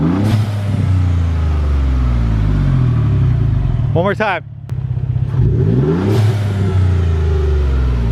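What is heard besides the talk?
Ford F-150 EcoBoost exhaust revving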